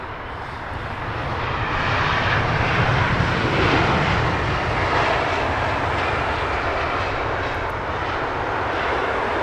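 A Eurowings airliner climbs out from London Heathrow Airport, its engines giving a steady, loud broadband roar that swells slightly and holds for several seconds, with no talk over it.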